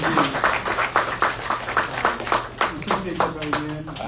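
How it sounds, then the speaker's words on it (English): Audience clapping and applauding for a speaker, a brisk scatter of hand claps in uneven pulses, fairly close and moderately loud, with voices murmuring alongside. "let's give a round of applause for Imam Shadeed Muhammad."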